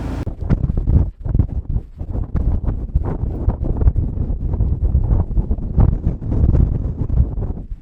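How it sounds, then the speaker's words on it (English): Strong wind gusts roar across an exposed campsite, a loud, continuous low buffeting rush with surging peaks that batters the microphone close up, with no talking. "So usually we don't manage to get any decent footage of the wind because it's usually quite dark and at night, but it's pretty chaotic now."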